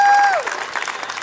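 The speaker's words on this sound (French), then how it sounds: "Je pense que vous pouvez leur donner une bonne main d'applaudissement pour l'organisation de cette journée." Applause from an audience at a Holstein cattle event, brief and steady clapping right after a tone fades at the start.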